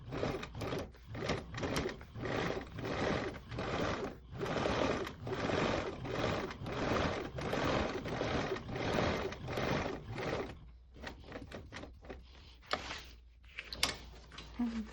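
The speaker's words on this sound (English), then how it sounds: "I'll sew around with a 1/8 seam allowance" A sewing machine stitches around a thick tag with a 1/8 inch seam allowance, running in loud rapid bursts with short pauses, then slower, choppier stitches near the end.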